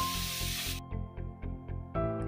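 Elephant foot yam pieces dropped into hot fried spices: a loud burst of hissing sizzle that cuts off abruptly, followed by a string of muffled clunks and knocks, close up.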